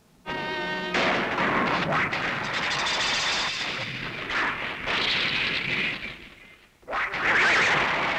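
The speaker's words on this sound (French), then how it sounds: "Les bombes ne lui font rien." Loud rumbling bomb blasts and crackling explosions roll on continuously in a tokusatsu TV episode, with a brief lull before another heavy burst erupts close by.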